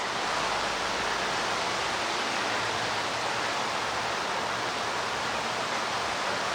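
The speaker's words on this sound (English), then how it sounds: "it's so windy today" Loud, steady broadband roar of strong wind from a cold front buffeting the microphone outdoors, constant and unbroken from start to finish.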